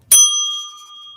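A single bright bell strike rings out clearly and close, then its clear metallic tone slowly fades away on its own.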